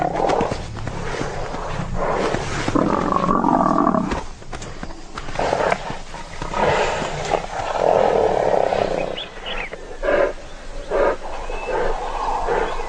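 A lioness attacking a large horned animal, her throaty roars and growls bursting out in repeated loud surges over a scuffling struggle, close and intense throughout.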